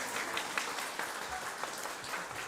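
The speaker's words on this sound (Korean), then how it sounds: "한번 축하의 박수 한번 할까요?" A church congregation applauding in congratulation during a worship service, a brief, fairly soft patter of clapping from many hands, continuous throughout.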